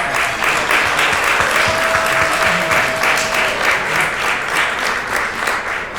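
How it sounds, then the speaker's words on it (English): A dinner audience at a Gracie Mansion benefit applauds volunteer docents with sustained, loud, even clapping that fills the room throughout. "Let's give them a round of applause"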